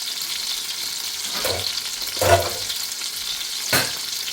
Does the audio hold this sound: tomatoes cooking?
yes